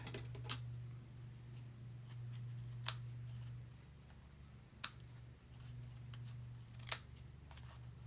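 Scissors trimming a paper tag for a junk journal: three faint, sharp snips spaced about two seconds apart over a low steady hum in a quiet room.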